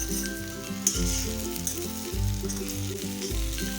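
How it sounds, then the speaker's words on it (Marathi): Ridge gourd being stirred and fried in a pan, a bright continuous sizzle broken by a few heavy low scraping strokes of the spoon, up close and fairly loud, without voices. "इथे आपल्याला हा दोडका छान असा एकसारखा हलवून घ्यायचा आहे"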